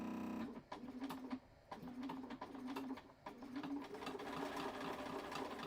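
A sewing machine fitted with a walking foot stitches at a 2.5 stitch length in steady, close bursts of rhythmic whirring, with short pauses between runs.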